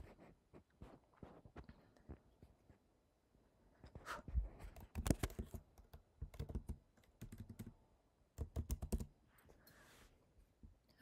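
Keystrokes rattle on a computer keyboard while text is entered into laser engraving software for an xTool S1 bamboo pen job, coming in irregular bursts with short pauses, close and moderately loud.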